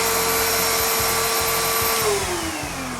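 A RICCAR Vibrance premium vacuum cleaner runs on carpeted stairs with a loud, steady motor whine close by, a faint pulsing beneath it and a slight drop in pitch near the end.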